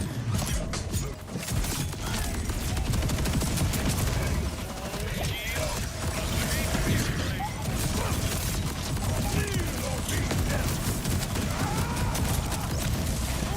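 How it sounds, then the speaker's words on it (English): Rapid Jacobs SMG fire in Borderlands 4, a dense, continuous crackling barrage that runs loud and unbroken throughout, layered with gameplay effects. "Fast firing SMG."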